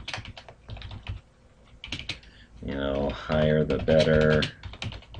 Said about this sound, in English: You can tell that I'm not a very good typer.